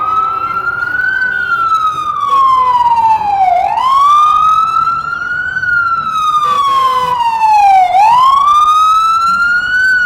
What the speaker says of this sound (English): We got some siren action there.